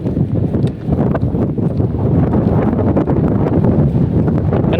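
Strong outdoor wind buffets the microphone in a steady low roar with gusty rumbles throughout.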